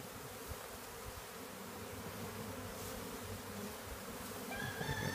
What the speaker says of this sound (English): There's a bunch of bees up here.